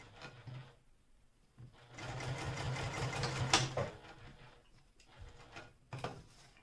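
A sewing machine back-stitches while sewing a small bag, a short burst of rapid rhythmic stitching between quieter handling clicks and rustles, close and fairly soft.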